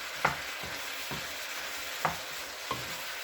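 Red, yellow and green peppers for sweet and sour pork being stir-fried in a pan, a steady low sizzle with several distinct scraping stirs of the spatula spread across the moment, no voices.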